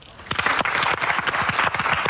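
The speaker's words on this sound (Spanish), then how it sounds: "Un fuerte aplauso." An audience bursts into applause, dense rapid clapping from many hands building quickly and staying loud and close for the whole stretch, with no talking over it.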